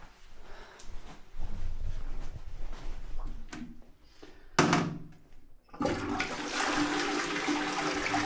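A toilet flushing in a bathroom on Corfu, a loud rushing gush of water that surges midway and settles into a steady, close refill hiss.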